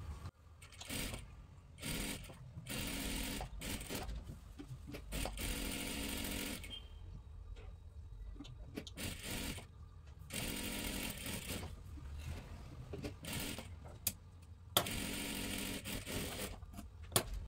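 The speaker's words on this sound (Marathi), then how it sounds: "आणि इथे पूर्ण डबल शिलाई मारून घ्या।" A sewing machine runs a double seam on a dress, its motor whirring in long steady bursts separated by short pauses, close and fairly loud, with no one speaking.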